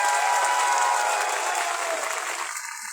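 Loud sustained applause from a crowd at a protest sit-in in Bikaner to save khejri trees, welcoming a leader, steady and dense before tapering slightly near the end.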